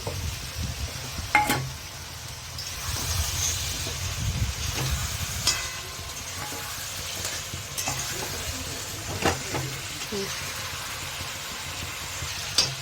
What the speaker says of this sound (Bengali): চিকেন ভাজাগুলো দিয়ে দিচ্ছি এর মধ্যে